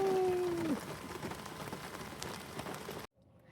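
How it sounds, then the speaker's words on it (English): Heavy rain pours on an SUV tent in a dense, steady hiss heard from inside, with a brief tone at the start before the sound cuts off abruptly near the end. "It's pouring outside"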